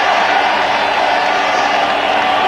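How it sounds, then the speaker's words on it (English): A large cricket stadium crowd at a 1999 World Cup India versus Australia Super Six match cheers after a run, a loud, steady roar of many voices filling the whole stretch. "Well, crowd enjoying it."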